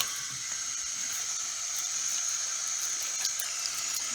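Water streams steadily from a lab sink tap for rinsing, a continuous hissing flow close by with no talk over it.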